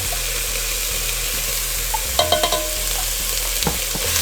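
Minced garlic and shredded chicken sizzle in a pan with a constant frying hiss, broken midway by several sharp utensil scrapes and taps as the mixture is stirred.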